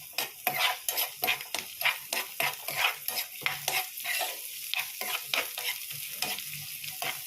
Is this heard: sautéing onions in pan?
yes